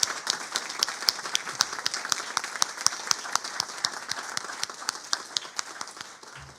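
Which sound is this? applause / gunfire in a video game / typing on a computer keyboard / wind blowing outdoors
applause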